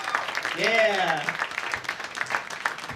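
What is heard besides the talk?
audience applause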